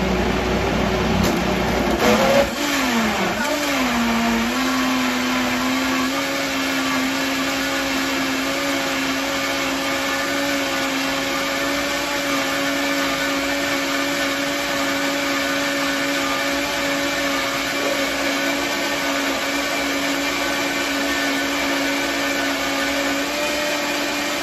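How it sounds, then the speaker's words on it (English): An electric blender whirs steadily as it blends a green smoothie, with one loud, continuous motor drone that settles in pitch after the first few seconds and runs uninterrupted to the end. "So now I'll just give that a really good blender."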